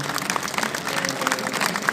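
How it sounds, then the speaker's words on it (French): A crowd applauds at a fishing event, steady clapping from many hands at moderate volume with faint crowd murmur beneath, no clear talk on top. "là on peut applaudir, c'est une première, c'est pour vous"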